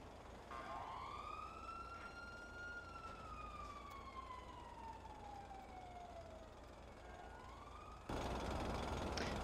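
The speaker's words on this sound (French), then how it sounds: "y'a des ambulances" A wailing emergency siren from an ambulance in the video game GTA 5, one long rising and falling sweep that stays loud and steady over a constant low engine rumble.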